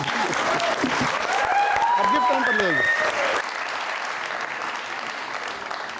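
A crowd claps loudly and steadily throughout, with a voice speaking and some tonal sounds over the applause in the first few seconds.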